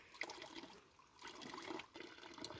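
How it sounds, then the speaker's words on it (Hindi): Cold water runs from a spring in a forest, a faint, continuous gurgling and rushing flow with slight swells, heard alone with no voices. "ये खूबसूरत चश्मा है दोस्तों"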